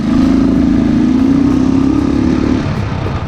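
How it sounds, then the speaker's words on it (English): Royal Enfield Thunderbird 500X single-cylinder motorcycle engine running close by, a loud, flat, steady throb with a slight rise in pitch before it settles back toward idle. "When you start the motorcycle, the thumping sound from the good old Enfield bike is missing. Here the sound is a lot flatter."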